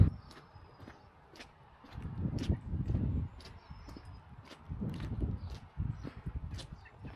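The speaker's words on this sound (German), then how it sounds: "Pferde und Hunde." Horses walk nearby on a rural lane in Craughwell, Ireland, their hooves clip-clopping in irregular clusters, moderately faint, with no talk.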